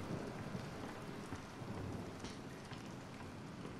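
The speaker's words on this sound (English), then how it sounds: "The thunder." Steady rain with low rumbling thunder in the horror video game Bendy and the Dark Revival, a continuous dense hiss under faint deep rolls, quiet and without talk.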